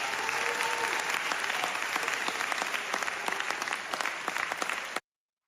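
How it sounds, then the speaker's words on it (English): Applause from a small group, a steady patter of clapping for several seconds that stops abruptly. "let's just get a clap for Dylan real quick"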